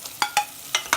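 Turmeric and onion masala frying in a pan for chicken biryani, with four short, bright scraping stir strokes over a soft sizzle, close and moderately loud with nobody talking.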